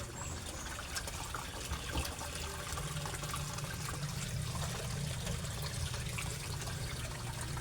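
Water flowing steadily from a submersible pump, a continuous rushing trickle with a low rumble underneath, unbroken for several seconds and no talking.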